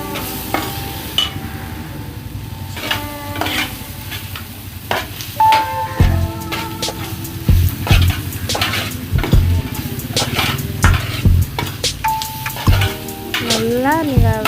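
Masala being stirred and sautéed in a pan, a continuous close sizzle under frequent metallic scrapes and clanks of a spoon against the vessel, with occasional short tonal beeps mixed in.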